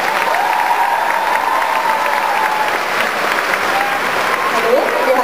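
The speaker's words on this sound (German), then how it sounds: "Nochmal einen kräftigen Applaus für unsere Nummer" Loud, sustained audience applause fills an indoor cosplay competition hall at an anime convention, steady clapping throughout with a few cheers and voices mixed in.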